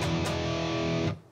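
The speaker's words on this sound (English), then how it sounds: "I'm going to be using another high gain sound." Electric guitar through a high-gain distorted tone, one thick sustained chord held for about a second with a quick re-strike near the start before it cuts off, loud and alone.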